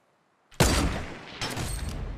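Thermal rifle fire in Fortnite Battle Royale: after brief silence, a sharp loud shot bursts out, then a second blast follows about a second later, each trailing into a noisy decay.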